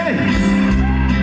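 A crowd at a Mexican party lets out a loud collective shout, a sustained wall of yelling and whooping voices that fills the whole moment without pause.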